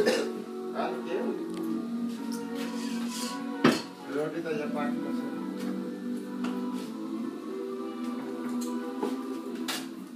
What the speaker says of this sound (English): Breakfast dumplings being made